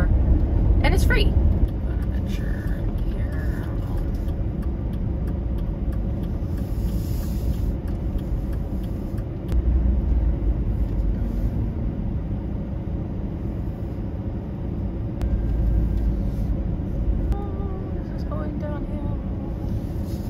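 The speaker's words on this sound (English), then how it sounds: "so I'm driving over there now" A van driving on a road gives a steady low rumble of engine and tyres that lasts throughout, with a few brief clicks and rattles on top.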